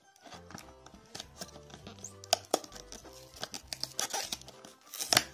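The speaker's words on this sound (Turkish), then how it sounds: "Şurada bantlar varmış. İlk olarak onları sökmemiz gerekiyor. Şu makas yardımıyla bantlarımızı sökelim." Packing tape being cut and peeled off a cardboard box with scissors; quiet, irregular tearing, crinkling and sharp snipping clicks sound close by over soft background music, with no talking.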